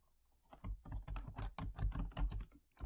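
Rapid typing on a computer keyboard while entering button text, an irregular run of close, crisp key clicks heard alone.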